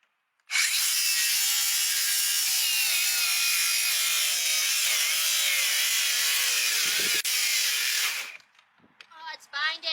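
Power saw cutting through plywood propped on an upside-down bucket, a loud steady whining rip that runs nearly continuously for about eight seconds, dips briefly as the blade binds, then stops, followed by faint handling noise.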